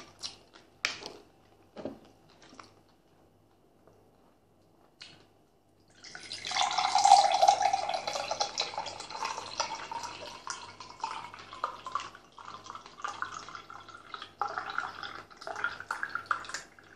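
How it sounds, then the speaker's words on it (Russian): Pulpy orange lemonade with pulp pours into a glass, a steady bright liquid splash that begins abruptly midway and runs continuously near the mic, tapering into trickles and drips. "Налью все палпы."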